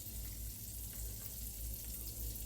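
Slices of bread soaked in egg and milk fry in a buttered skillet over medium-high heat, giving a soft, continuous sizzle that stays fairly quiet and steady.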